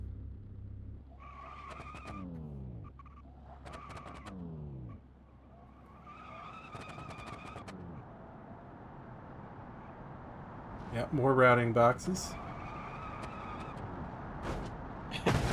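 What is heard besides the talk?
car engine and gear shifts in video game BeamNG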